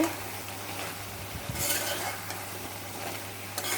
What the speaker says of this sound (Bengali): আমি এর মধ্যে সজনেগুলো দিয়ে আরও কিছুক্ষণ কষিয়ে নিব।